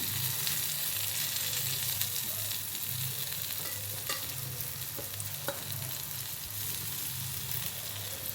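Slices of elephant foot yam and eggplant fry in a shallow pan with a steady low sizzle, with occasional faint clicks and light scrapes, close and fairly quiet, no talking.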